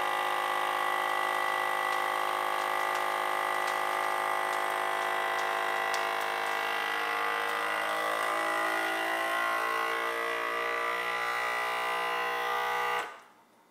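A vacuum sealer draws air from a bag of curing goose pastrami with a loud, steady motor hum that holds for about thirteen seconds, then cuts off abruptly.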